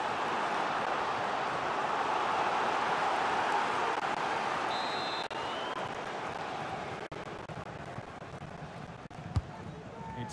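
Stadium crowd in the FC 24 football video game cheers and roars steadily as the home side pushes for a goal, a dense, loud wash of voices throughout with brief sharper shouts near the end.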